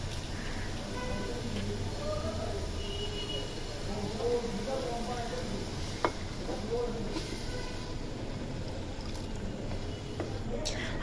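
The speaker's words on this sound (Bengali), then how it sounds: "সব উপকরণ দিয়ে এখন ভালো করে মিক্স করে কষিয়ে নেব" Turkey curry with milk, spices and a packet of Maggi masala is stirred and fried in a pan, giving a steady low sizzle with soft scraping and stirring sounds throughout.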